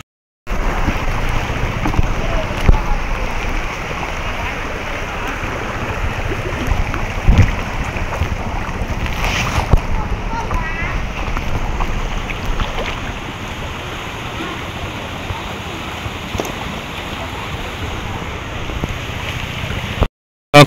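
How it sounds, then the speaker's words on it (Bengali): A river carrying water down from Lakshmanchhara waterfall near Sylhet rushes steadily and loudly close by, with wind buffeting the microphone and no voices heard. "লক্ষণছড়া ঝর্ণা থেকে যে পানিগুলো নিচে প্রবাহিত হয়, সেই পানিগুলো এই যে এই নদী দিয়ে বেয়ে যাচ্ছে।"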